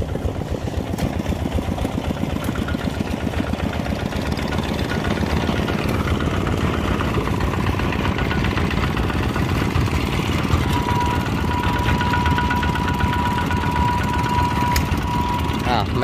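A walking tractor's engine keeps running steadily without stalling, a continuous loud chugging drone close by, outdoors near muddy ground.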